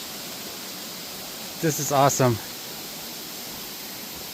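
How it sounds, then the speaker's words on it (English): A waterfall in a jungle near Taipei gives off a steady, even rush of falling water that fills the whole clip at moderate distance, while a voice briefly speaks over it midway through. "Up there's the waterfall."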